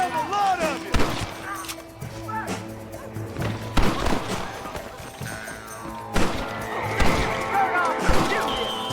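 Gunfire in a Red Dead Redemption shootout, a series of sharp loud shots and impacts scattered irregularly over a layered musical score, with voices talking in between.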